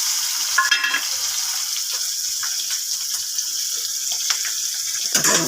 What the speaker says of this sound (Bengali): পেঁয়াজ আর লঙ্কা দিয়ে দিলাম